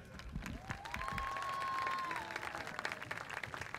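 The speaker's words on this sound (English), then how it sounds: "Nice round of applause for our board secretary" A crowd at a school pep rally applauds, steady mid-level clapping that swells slightly then tapers, with a faint whistling tone running through the middle.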